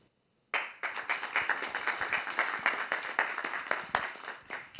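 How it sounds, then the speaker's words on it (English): Audience clapping bursts in suddenly after near silence and keeps going steadily for several seconds, a close, dense round of applause at a community conversation event. "Please give another round of applause to the extraordinary men."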